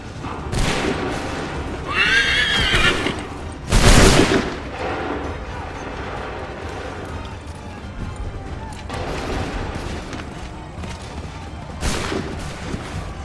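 Musket volleys crack out in Assassin's Creed 3, several loud broadband blasts spread over the stretch, with a horse whinnying and shouted commands in between.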